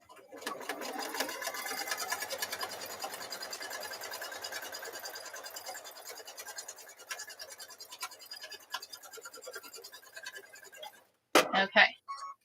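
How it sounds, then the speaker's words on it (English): A sewing machine stitches a quarter-inch seam on a quilt block, its steady rapid whir running close and loud for about eleven seconds before stopping, followed by a few short bursts of handling noise. "Stitching that 1/4 inch seam"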